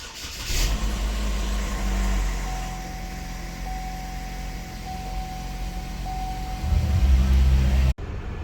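A 2015 GMC Terrain with a 2.4L engine and 6-speed transmission starts and settles into a steady close idle, with a faint whine, then a brief rise in engine level near the end before it cuts off abruptly.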